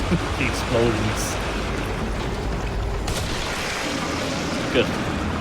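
Several distant video game explosions, booms and blasts from The Evil Within, go off over a continuous rushing background, with sharp bursts near the start and middle.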